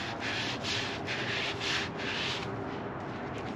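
Foam loaded with shoe cleaner rubs against a scuff mark on a Vans sneaker, giving a close, steady scrubbing hiss in several strokes that fade toward the end. No one speaks.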